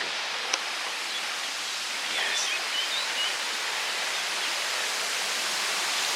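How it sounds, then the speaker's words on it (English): Steady broadband rush of falling and flowing water, constant and fairly loud, like a waterfall feeding a stream, with no voices. "This waterfall looks amazing."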